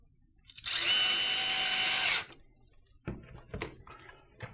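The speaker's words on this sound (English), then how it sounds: "Other countersink screw goes in here." A power drill drives a countersunk screw into a Bluetooth speaker in one steady whir of about one and a half seconds, close up. Faint handling clicks and rustles follow.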